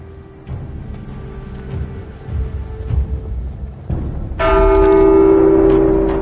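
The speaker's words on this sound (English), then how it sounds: "Who the fuck rang the bell?" A bell rings out in The Walking Dead Saints & Sinners VR video game, a loud, sustained ringing tone that swells in suddenly over low in-game ambience and rumble and holds to the end, with no speech.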